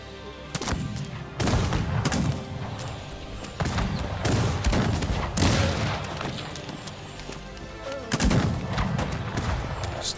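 Repeated gunshots and musket volleys from the Cossacks 3 strategy game, sharp bursts spaced irregularly with booming thuds in a busy battle mix.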